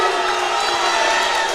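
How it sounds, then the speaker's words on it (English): Dense, loud crowd noise at a high school boys basketball game between Vinton County and Nelsonville, with a sustained roar of voices reacting through the whole short moment and no single voice standing out. "Crowd unhappy here."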